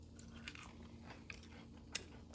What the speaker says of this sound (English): let's have a bite of this gorgeous waffle and see how it tastes like.